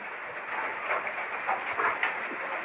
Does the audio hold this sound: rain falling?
yes